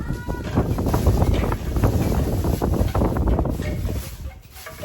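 Strong wind buffets the microphone beside a bitter gourd plant in a home garden, a continuous loud rumbling roar with no speech.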